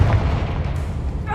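A Confringo blasting spell goes off in Hogwarts Legacy with a loud, close, booming burst that fills the short moment, and a voice is heard under it.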